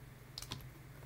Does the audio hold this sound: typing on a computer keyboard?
yes